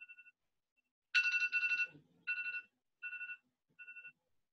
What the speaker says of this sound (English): that's my alarm telling me about how much time we have left